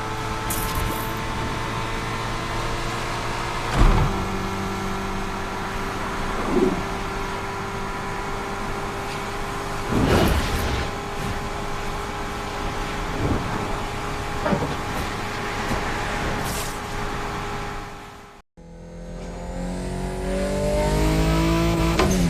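Cars race in the video game Need for Speed Unbound, engines droning and revving steadily with repeated surges and passing whooshes, then a sharp cut to a louder, deeper engine roar near the end.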